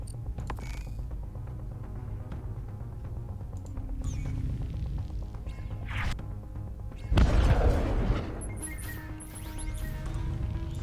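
Enemy missiles strike a ship in the sci-fi deck-building strategy game Breachway, a heavy crashing impact surging up for about a second mid-stretch amid a continuous mechanical game hum and clicking interface sounds.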